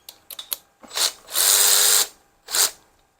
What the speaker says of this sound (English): I'm going to pull these little Allen key bolts off the side first.